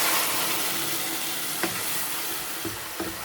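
Tomato puree sizzles and bubbles steadily in a pot of beef stew, a continuous frying hiss with a few soft clinks of a spoon.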